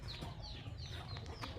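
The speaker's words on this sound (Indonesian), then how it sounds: "Di sini juga ada kandang, tapi di sini isinya cuman ayam ya" Chickens in a rural backyard pen cluck and chirp in short repeated calls over a steady low background rumble, fairly faint and close by.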